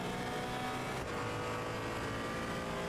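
A race car engine in the video game Assetto Corsa EVO roars steadily and loud throughout, a continuous high-revving drone with no talk over it.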